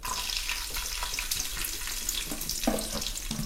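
Garlic cloves frying in hot oil alongside tempering seeds for a tomato roti pachadi give a steady, loud, hissing sizzle throughout, with brief bursts of crackling and no voices.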